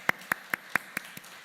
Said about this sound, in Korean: 우리 감사의 박수 부탁드립니다